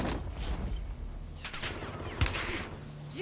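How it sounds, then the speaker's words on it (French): Rapid gunfire in Call of Duty Warzone, with dense bursts of shots and a sharp louder crack near the end, continuous and loud without talk. "J'essuie des tirs."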